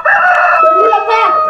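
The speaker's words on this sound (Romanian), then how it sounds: "Cocoșul ia de glas și se bate!" A loud, close rooster crow in a Romanian fairy-tale audio drama, one drawn-out cock-a-doodle-doo rising and falling over about a second and a half with no talk over it.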